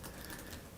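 LG Gram 14 360 two-in-1 lightweight laptop keyboard with deep-travel keys, clicking in a rapid, steady patter of small taps, faint and close up with no talk.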